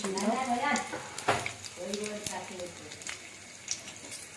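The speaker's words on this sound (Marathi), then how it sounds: "तेल गरम झालेले आहे आता यात आपण लसूण टाकणार आहोत मोहरी" Garlic and mustard seeds hit hot oil while Suran bhaji is being cooked, giving a close, crackling sizzle with spattering pops. Someone talks over the frying.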